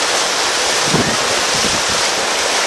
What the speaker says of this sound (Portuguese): Olha, ó o portão, entrando água.